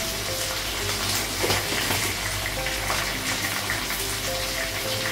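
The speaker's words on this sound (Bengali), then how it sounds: "একটু কচুটা ভেজে নিই, তারপর ভেজে লাগাই" Taro frying in a pan on a gas stove for a Bengali ridge gourd curry, a steady dense sizzle that holds close and even throughout with faint kitchen hum underneath.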